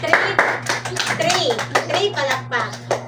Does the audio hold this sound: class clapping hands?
yes